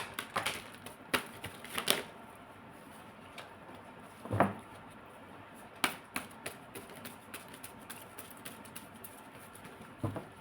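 Tarot cards being shuffled by hand, with scattered crisp slaps and riffling taps at irregular intervals against a quiet background, fairly close.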